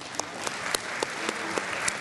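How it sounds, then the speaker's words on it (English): Audience at a chamber of commerce luncheon claps for newly joined members, a moderate round of applause with a few sharp, distinct hand claps standing out over the steady patter. "Please join me in giving these new members a round of applause."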